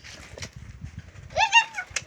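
A lovebird gives a quick burst of bright, close chirps and squawks, a few short rising-and-falling calls over soft background rustling.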